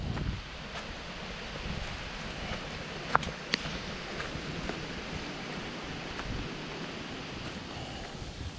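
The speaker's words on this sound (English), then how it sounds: "It is quite breezy." A breezy wind blows outdoors on a mountain hiking trail, a steady rushing buffet with soft gusts and a few small clicks nearby, and no one talking.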